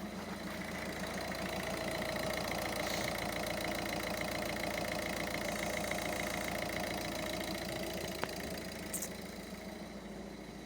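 Peugeot 508 engine running smoothly at idle, a steady even mid-pitched hum with a regular pulsing rhythm, heard close and alone with one brief click near the end.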